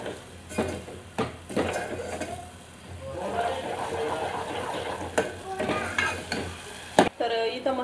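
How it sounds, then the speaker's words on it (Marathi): Freshly ground masala paste sizzles and crackles in hot oil in a home kitchen as it is stirred, with steady frying hiss, scraping spatula knocks against the pan, and someone speaking intermittently over it. "हे व्यवस्थित तेलामध्ये परतून घ्यायचं."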